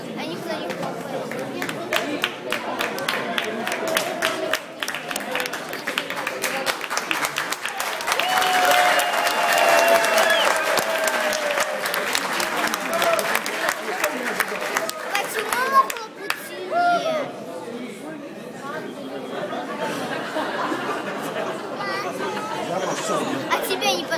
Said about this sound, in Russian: Хлопай, хлопай!